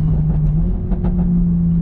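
Steady Toyota Supra engine rumble up close, with a few faint crackling exhaust pops from a modified exhaust over the low idle drone.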